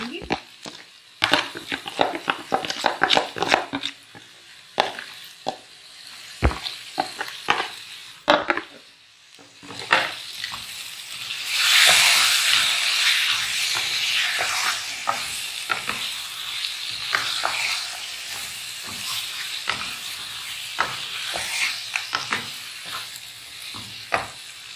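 Chicken marinated in yogurt, black pepper, garam masala and salt hits hot masala oil in a karahi for chicken chana, bursting into a loud, steady sizzle after scattered clatters, with stirring scrapes and a voice talking over it.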